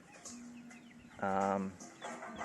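Chickens cluck near a backyard chicken coop shaded by banana plants, with a louder burst of harmonic clucking in the middle and softer calls before and after, fairly close.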